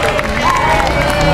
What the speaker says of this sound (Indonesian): Beri tepuk tangan dulu kepada Kak Axel.